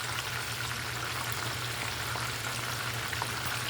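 Chicken drumsticks frying in hot oil, a steady close crackling sizzle over a low hum, constant throughout with no talk.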